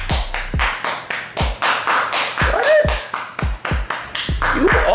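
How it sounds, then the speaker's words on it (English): A burst of hand clapping, sharp and steady, with loud claps in a fast rhythm and a voice chiming in faintly underneath. "We're giving you a round of applause."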